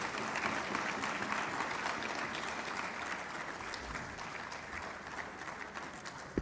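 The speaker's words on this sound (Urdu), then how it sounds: "ذرا تالیاں بجا کے ان کا استقبال ہونا چاہیے" An audience at a human rights seminar in Lahore applauds steadily throughout, a dense, even wash of clapping welcoming a guest, with a sharp louder clap near the very end.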